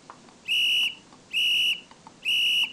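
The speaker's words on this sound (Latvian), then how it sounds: "Es tev svilpoju." Three sharp, loud whistle blasts of equal length ring out at a steady pace, each held about a third of a second, with quiet gaps between, given as a location signal during an Antarctic outing.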